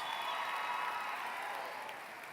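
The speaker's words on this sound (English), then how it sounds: "Give your principal a thunderous round of applause." A graduation ceremony crowd applauds the principal in a large venue, a broad wash of distant clapping and cheering that holds steady and then fades slightly.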